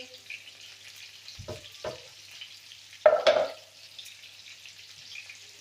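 Meatballs with garlic and onion frying in a pan, stirred with a few short scraping bursts over a soft steady sizzle, the loudest stir around the middle.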